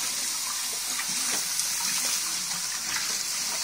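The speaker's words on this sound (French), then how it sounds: "le temps que je remplis le terrarium de l'eau" Water runs steadily from a tap as a chameleon terrarium is filled and rinsed, a continuous close splashing gush with no pauses.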